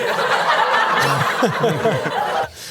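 A burst of canned studio-audience laughter, a crowd of many people laughing together, loud and close, fading out abruptly after a couple of seconds.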